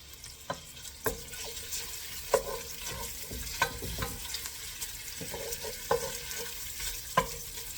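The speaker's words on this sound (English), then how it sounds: "So we're going to cook this bacon." Bacon cooking in a pan, a soft steady sizzle broken by repeated clicks and scrapes of stirring at an irregular rhythm.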